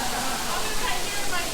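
A cruise ship thermal suite hot tub bubbles and rushes in a steady, dense wash of water noise, close and continuous throughout with no break.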